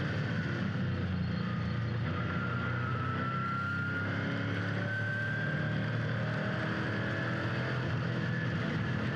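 Onboard a Trans Am Series Mustang race car at Road Atlanta, a constant loud engine drone with a slowly rising whine as it accelerates, steady and unbroken throughout.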